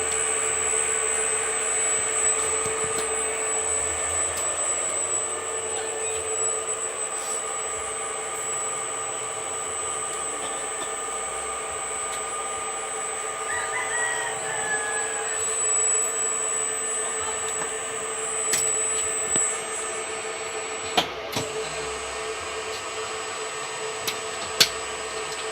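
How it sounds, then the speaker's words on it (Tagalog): Electric fan motor running on a gear-driven self-powered generator makes a continuous, steady mechanical whine and hum, close and loud throughout, with a few faint clicks late on. "So the fan motor is already powered here."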